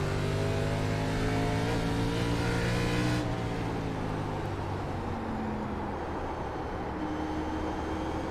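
Race car engines in the iRacing sim, a loud, steady high-revving drone with pitch shifting as gears change, tones falling after a shift then climbing again, close and continuous.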